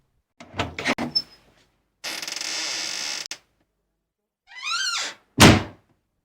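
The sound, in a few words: building door opening abruptly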